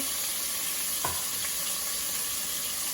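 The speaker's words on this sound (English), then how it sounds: "What I'm gonna do is go ahead and fry the onions, the ginger, and the garlic" Onions frying in a pan with ginger and garlic for a spinach stew, giving a steady, dense sizzle throughout, with a brief stir or clink partway through and no talk.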